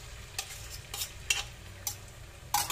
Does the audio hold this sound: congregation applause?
no